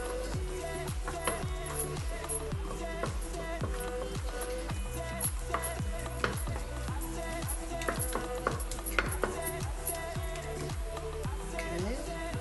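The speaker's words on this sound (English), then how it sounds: "so you're going to saute the carrots a little bit" Carrots sauté in melted butter in a pan for Turkish lentil soup, giving a steady close sizzle with repeated stirring scrapes and utensil knocks against the pot throughout, with no talking.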